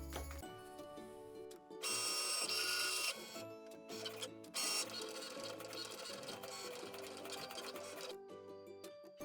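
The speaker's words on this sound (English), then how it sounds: "Once your machine has finished cutting" A Cricut Go machine cutting faux leather, with a mechanical whir and rapid buzzing carriage movements in bursts, close and fairly quiet, with no speech.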